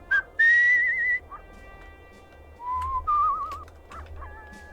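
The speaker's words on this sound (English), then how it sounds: "That whistling thing doesn't work for me." Whistling in the video game Where the Water Tastes Like Wine comes as several clear, sustained whistled notes that rise and slide, fairly close, with brief pauses between phrases over a quiet background.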